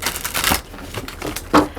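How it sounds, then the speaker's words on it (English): Tarot cards being shuffled by hand, a quick papery riffle and crinkle in short bursts with a sharper flick near the end, close and alone. "So let me go and just shuffle your cards."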